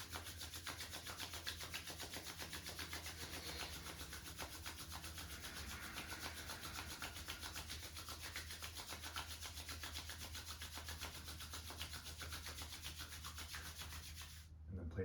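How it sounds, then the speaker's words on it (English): Palms rubbed together briskly and fast during a yoga session, a steady, continuous close-up friction hiss that lasts throughout and stops abruptly at the very end. "Bring the hands together and rub them briskly as fast as you can"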